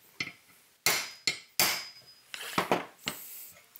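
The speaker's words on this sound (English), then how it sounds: "So we want to center punch this hole" A center punch is struck into wood with a hammer during fabrication of a tube amplifier headphone adapter, giving about six or seven sharp separate taps with a slight metallic ring at uneven intervals in a quiet room.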